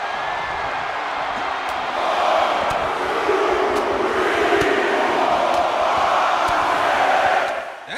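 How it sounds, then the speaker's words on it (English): A wrestling arena crowd in the WWE 2K24 video game roars loudly and continuously, a dense wall of cheering that swells after a couple of seconds and drops off sharply at the very end. "The sound of this crowd is deafening"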